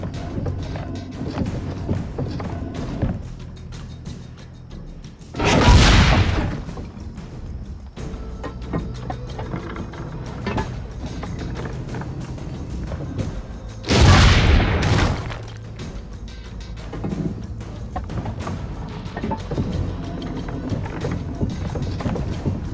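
Two heavy booming cannon shots in Assassin's Creed: Brotherhood, several seconds apart, each a loud broadband blast rising above a steady windy, watery game ambience.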